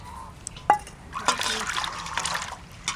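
Water mixed with salt and flour pours and trickles over a large cleaned baush fish in a village kitchen, a short close splash and dribble under a person talking.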